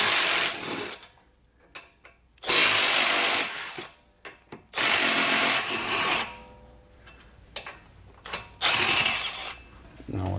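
A tool spins 15 mm nuts off the lower rear suspension of an S550 Mustang in loud, close bursts of rapid mechanical whirring separated by pauses, with a voice speaking between them.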